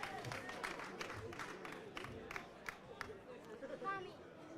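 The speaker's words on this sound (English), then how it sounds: "Crowd's starting to fill in nicely for this Double L championship game." Spectators at a CIAC Little League baseball championship game between Amity and Staples fill the stands with a steady murmur of chatter, scattered claps and faint shouts, under a commentator's voice.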